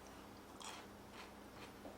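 Fresh snap peas from a griddle shrimp stir fry being bitten and chewed, with a few crisp crunches spaced over about two seconds, quiet and close with no talking.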